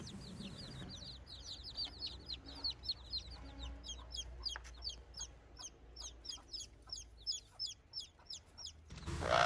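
A mother hen and her chicks, a rapid series of high chick peeps over low soft clucking, close by and steady, with a louder burst of noise at the end.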